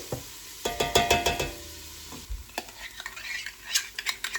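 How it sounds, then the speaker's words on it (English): Vegetables with garlic and pepper saute in a pan for a fish stew. A quick burst of clattering spatula strokes comes first, then softer scattered stirring over a quiet sizzle. "It says to let this saute for just a couple minutes, I think, just to let the garlic and pepper get a little fragrant."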